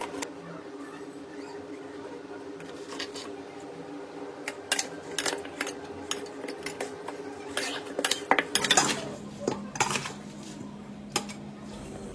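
Big cooking pots, a large kadai and utensils are handled in a home kitchen while preparing rice for a big batch, with scattered metallic clanks and scrapes that grow busier toward the end.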